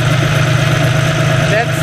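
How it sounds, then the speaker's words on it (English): A vehicle engine idles loudly right beside the listener, a steady low droning hum with a strong mechanical vibration that holds even and unbroken throughout. "So this is the sound of the engine."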